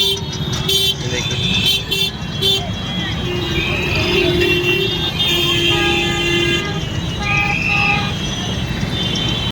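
Heavy city traffic in Indore roars steadily with repeated car horns tooting, some long and some in short bursts, loud and close over a constant engine rumble, with a voice talking over the noise.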